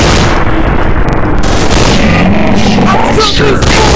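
Gunfire from the mobile game Counter Strike Commando Mission rattles loud and continuous, dense overlapping shots and booms filling the whole stretch without a break.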